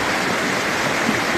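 Floodwater at Chame, Manang, swollen by days of continuous rain, rushing in a loud, dense, unbroken roar close by with no voices.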